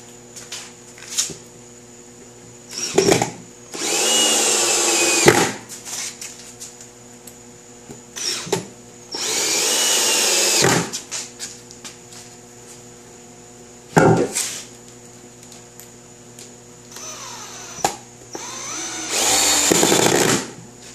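A power drill drives screws into the base of a homemade tool stand through pre-drilled pilot holes, in four loud whirring bursts of a few seconds each, separated by quieter pauses with no talk.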